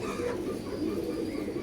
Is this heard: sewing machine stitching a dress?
no